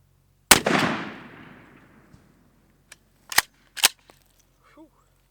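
A Remington 870 pump shotgun fires a TSS turkey load at a paper pattern target: one sharp, loud blast with a long fading echo, followed by a few crisp mechanical clacks.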